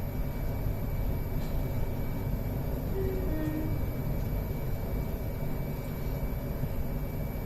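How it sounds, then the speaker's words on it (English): A steady, loud rumble and rush fills the cabin as an SWR Class 458/4 electric train runs fast through Barnes station. Faint squeals and rattles rise briefly over the continuous roar. "We're now passing through Barnes Station fast from Hounslow"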